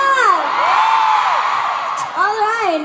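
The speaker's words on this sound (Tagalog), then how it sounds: "Isang malakas na hiyaw naman dyan!" A concert audience in Dubai cheers and shouts loudly after a singer asks for one more song, with whoops and yells rising and falling continuously.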